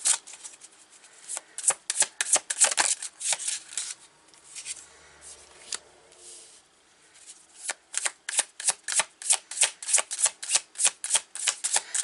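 Tarot of Oneness cards being shuffled close up, a run of quick crisp riffles and slides, some bursts pausing briefly around the middle before a steady rhythmic series of sharp flicks; no talking.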